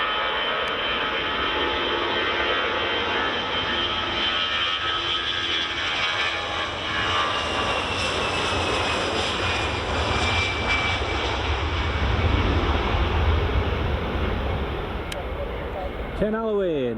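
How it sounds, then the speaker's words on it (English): An EasyJet jet airliner takes off on runway 24 at Edinburgh Airport, bound for Krakow. Its loud, sustained engine roar swells to a peak near the end, with a few faint voices beneath. "And we have the EasyJet lined up, ready to go."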